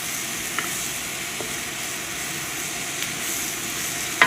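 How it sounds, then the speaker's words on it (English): Jackfruit sautés in a wok for a veganized pot roast, giving a steady, moderately quiet sizzle with faint crackles and a small pop at the very end; no one talks. "That's all I'm doing is just kind of sauteing it a little bit in my wok."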